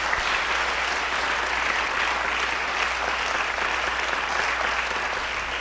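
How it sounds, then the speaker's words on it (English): A church congregation claps in sustained, even applause for youth trip participants, a dense wash of many hands lasting throughout with no voices standing out. "can we just, round of applause for them"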